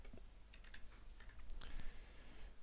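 Someone types a name on a computer keyboard while working in Blender, a short run of light, quick key taps, faint and close, with no voices.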